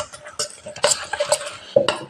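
Spoon stirring a small amount of Eno fruit salt into milk in a kitchen bowl, with repeated scraping and clinking strokes against the container, fairly close and steady, no voices.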